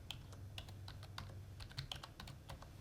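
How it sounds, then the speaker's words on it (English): Steady run of key presses as a word is typed on a computer keyboard, each tap crisp and close, evenly spaced with no talking. "So I'll just type in the word Cheltenham."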